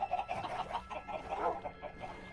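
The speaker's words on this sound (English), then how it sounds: "Oh no, I'm hearing chickens." Chickens clucking in Minecraft, a series of short, rhythmic clucks repeating in quick bursts, fairly faint and close, with no talk over them.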